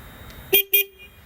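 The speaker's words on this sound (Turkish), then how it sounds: "Minibüs kornası gibi kornası var." Two short, bright honks from a 250 motorcycle's horn, minibus-like in tone, close and loud, with a brief gap between them.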